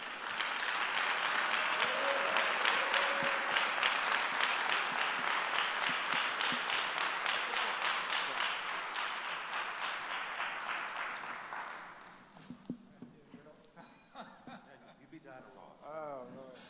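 Audience applause welcoming two speakers at a Rutgers-Newark event, a dense sustained clapping that fills the room for about twelve seconds before thinning out and fading, followed by brief quiet murmuring and stray sounds.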